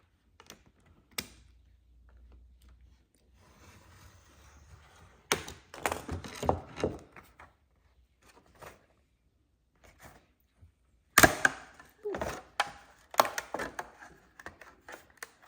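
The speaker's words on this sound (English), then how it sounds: "I think if you score it a couple of times, you should be able to snap it." Sharp scoring and snapping sounds from plastic pieces being cut down for a LEGO tray build, heard as scattered clicks and cracks with a louder cluster of snaps near the end, close and alone without talk.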